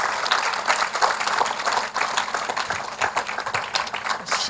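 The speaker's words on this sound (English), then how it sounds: "Now that deserves just one more round of applause." Applause fills a formal awards ceremony for a primary school student of the year foundation, a steady dense clapping crowd sustained throughout at moderate volume with no talk over it.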